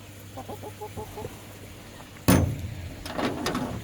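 Backyard hens including a Plymouth Rock: a short run of soft clucks, then a sudden clatter and louder, busier clucking and squawks close by.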